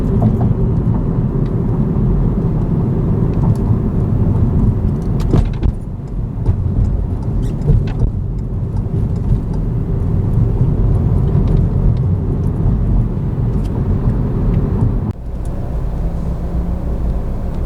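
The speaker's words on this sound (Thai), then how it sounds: "เราก็ เติมคันเร่งนิดนึงนะครับ ให้ความเร็วเพิ่มขึ้นครับ" From inside, a car makes a U-turn in a residential neighbourhood while the driver presses the accelerator a little. A steady low engine and road rumble continues throughout, with a few faint clicks and knocks.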